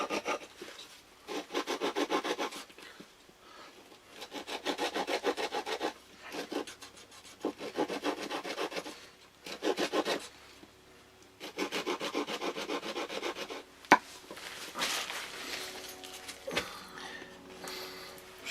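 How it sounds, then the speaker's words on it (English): A hand saw cuts a wooden stick in half in repeated rasping strokes, steady bursts of back-and-forth sawing with brief gaps between them, close and clear with no talking. "Shouldn't really be sawing without shoes on"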